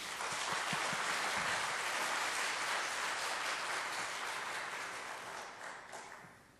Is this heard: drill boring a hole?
no